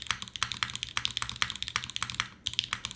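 Fast, continuous typing on a Code Geass themed mechanical keyboard gives dense, crisp clacks and pops at close range, with a brief pause near the end before the keystrokes resume.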